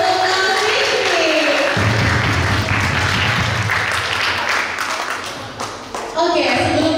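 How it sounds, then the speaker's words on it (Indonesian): An audience applauds a guest speaker at the close of a talk session. The clapping is loud and dense, with chatter and an announcer's voice over it, and it fades briefly before a voice resumes. "Beri tepuk tangan lagi untuk Kak Fikri."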